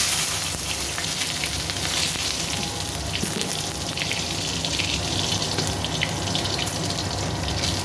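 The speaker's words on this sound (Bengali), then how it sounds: "সরষের তেল দিয়েছি, একটা বেগুন ভেজে নিচ্ছি।" Eggplant frying in mustard oil gives a steady, close sizzle and hiss that runs unbroken throughout, with no voices over it.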